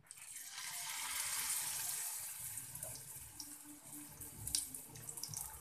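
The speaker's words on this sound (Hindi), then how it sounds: "और तेल गर्म हो गया है, कोफ्ते बनाना शुरू करेंगे। कोफ्ते डालना शुरू करेंगे।" Spinach kofte batter dropped into hot oil, frying with a steady, broad sizzle that swells and settles, punctuated by a few sharper spits and pops, fairly quiet and without speech.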